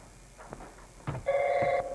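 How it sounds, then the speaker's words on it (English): Telephone in an early-1990s Denver house ringing, a near electronic ring that rises sharply after a few soft knocks and holds for about half a second on bright steady tones, with no talk over it. "Oh, there's our phone."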